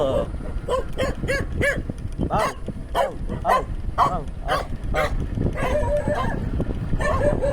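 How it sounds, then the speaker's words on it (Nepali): A dog barks and yips over and over in quick, excited bursts, close and loud, while people talk over the barking. "यति खुसी किन भुकेको"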